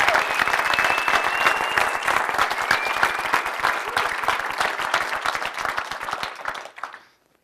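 Loud, dense applause from an audience at a talk, thanking the event organizers, sustained and steady before fading out near the end.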